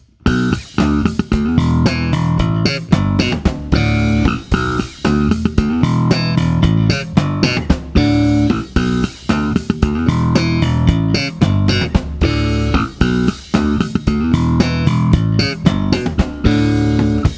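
Slapped bass playing a middle-eight riff, with choked ghost notes and a busy syncopated rhythm under a full, loud band mix.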